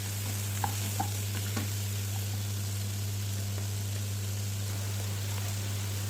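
Prawns being stirred and sautéed with onion and garlic in a pan give a steady, moderate sizzle with occasional soft scrapes and clicks of a spoon, over a constant low hum.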